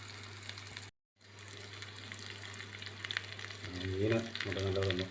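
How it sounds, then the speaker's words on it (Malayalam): Fish fries in a pan of oil, a steady crackling sizzle close by that briefly cuts out, then grows louder and busier as the pan is worked, with a low hum underneath. "മീൻ നമുക്ക് നല്ലതൊന്ന് വറക്കാം."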